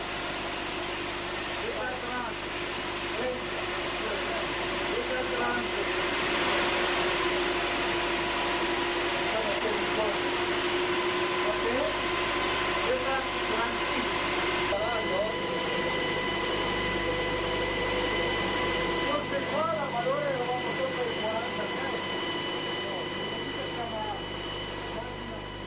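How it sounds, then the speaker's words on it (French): A micro hydroelectric turbine machine starts up and settles into running, a continuous broad whir and hum that drops in brightness partway through and then holds steady. "Une fois la turbine montée, la machine peut enfin être mise en route."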